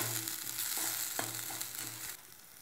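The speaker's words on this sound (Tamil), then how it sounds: "இப்போது புதினா நல்லா ஃப்ரை ஆயிடுச்சு" Mint leaves fry in a pan of oil with a soft steady sizzle and a few gentle stirring scrapes, faint and close with no voices.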